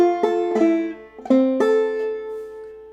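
Banjo picking one measure of the old-time tune Hog Eyed Man, four sharp plucked notes ringing with bright twangy sustain, close and clear with no talking.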